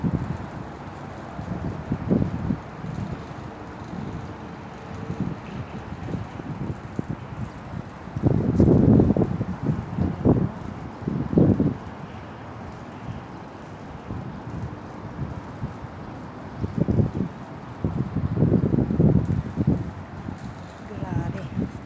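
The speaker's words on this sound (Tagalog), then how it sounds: "Sa lakas ng hangin." Strong sandstorm wind roars and buffets the microphone in repeated heavy gusts, rising and falling over a steady rushing background, with voices talking at times.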